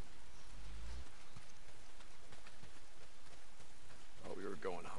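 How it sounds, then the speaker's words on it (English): Heavy rain pours down in Days Gone, a constant close wash of spattering drops, with voices talking over it partway through. "Not if it's pissing down rain."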